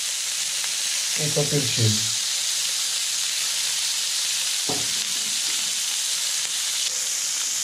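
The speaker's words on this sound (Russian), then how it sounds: "Вот у нас корочка поджарилась." Goose breast sizzles steadily in a hot pan, a dense, even frying hiss throughout, with a short spoken phrase early on and a brief low thump later.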